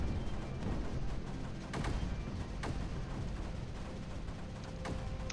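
Mortars fire in the strategy game Creeper World 4, a steady dense barrage of distant thuds and booms over a constant rumbling bed, with a few sharper cracks standing out, no voices.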